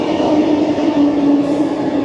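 A metro train on the Milan Green Line rumbles loudly from inside the carriage, a steady roar of wheels and motors with a faint whining tone, continuous over the brief moment.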